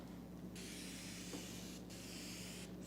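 Soapy water hissing from a brass fan-tip sprayer on a double hose, mixed with about 4 ounces of soap, used for tinting windows on a Mazda 3 hatch; steady close spray in long bursts with brief pauses and a low hum underneath.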